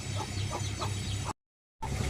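Repeated clucking calls from guinea fowl over a steady low hum, a brief silent gap, then calling resumes.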